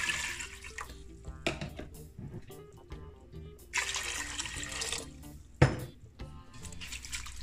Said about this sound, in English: first you wanna wash it. So we're gonna give it the first wash.